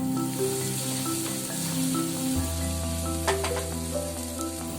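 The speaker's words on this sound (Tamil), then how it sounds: "இப்போ அந்த வெங்காயம் தக்காளி நல்லா வதங்கிட்டே இருக்கட்டும்" Onion and tomato sizzle and fry steadily in a pan for a Chettinad chicken kulambu, a continuous close hiss with background music running throughout.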